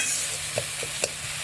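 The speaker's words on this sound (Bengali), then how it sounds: "এদিকে হচ্ছে যে আলু ভাজা হয়ে আইছে প্রায়" Potatoes fry in a pan with a steady, close sizzle and hiss, broken by a few soft scrapes as they are stirred.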